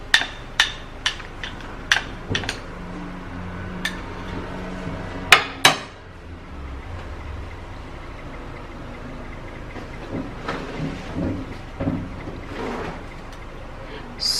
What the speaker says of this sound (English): we're going to gently stir and mix this up